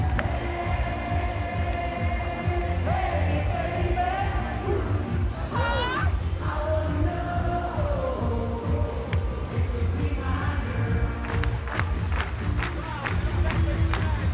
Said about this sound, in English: let us hear you clap those hands